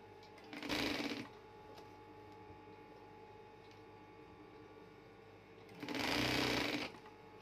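A Singer sewing machine runs an overlock stitch along the edge of a scalloped bedsheet, heard as two short, loud mechanical bursts about five seconds apart with a quiet room between them.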